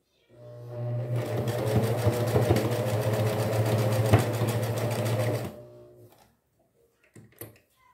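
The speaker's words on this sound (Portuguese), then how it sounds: "Desço o calcador e dou uns pontinhos até chegar aqui na lateral" A domestic sewing machine stitching along a fabric edge, running in one steady rapid-stitching burst of about five seconds close up, then stopping, followed by faint handling clicks.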